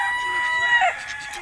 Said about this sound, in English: Plenty of roosters you can hear.